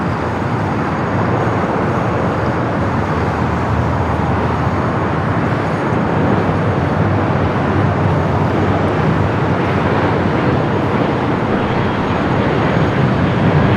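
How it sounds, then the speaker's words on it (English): Airbus A350 airliner taxiing at LAX airport, a loud continuous broadband roar of jet engines that stays steady throughout with no talking. "The flight heading back to Madrid, the A350, now starting its taxi up there to 24 left."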